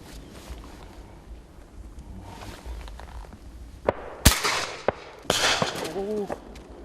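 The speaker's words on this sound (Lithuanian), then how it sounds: "Čia prasidėjus šūvių labai daug." Gunshots ring out during an aurochs-horn shooting hunt outdoors: a few sharp, fairly distant cracks spaced irregularly over a low background murmur, with a faint voice near the end.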